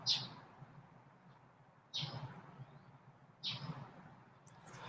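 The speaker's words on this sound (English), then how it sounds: "Do you hear the bird?" A bird chirps three times in a quiet early-morning setting, short bright calls spaced about a second and a half apart, fairly close.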